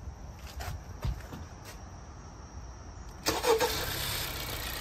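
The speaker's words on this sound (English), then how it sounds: "Okay, start the engine." A car engine cranks and catches during a starter test, a few faint clicks and movements giving way to a sudden loud start and then a steady running rumble; no speech.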